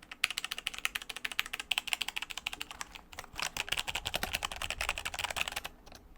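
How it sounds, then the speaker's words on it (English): Typing on a Logitech G513 Carbon keyboard with Romer-G tactile switches, a fast stream of crisp, close key clicks and clacks with brief pauses, continuing alone without speech. "we have the G513 Carbon with Romer G tactile key switches"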